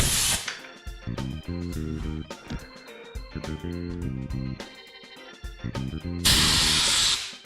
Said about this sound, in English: If you run tubeless tires, chances are that you have an air compressor. This can be used to dry off your cassette.